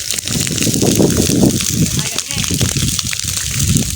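Water is sprayed onto a large grass fire near a village to stop it spreading, a continuous loud gushing hiss with crackling, heard while someone talks over it.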